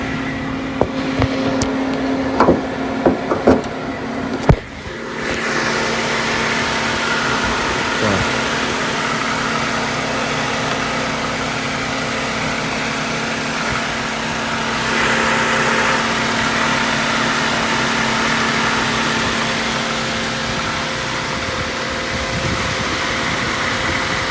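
A car engine idles steadily while running slightly lean on gas, a constant low hum and drone that sets in after a few clicks and knocks, holding even and fairly loud with no voices.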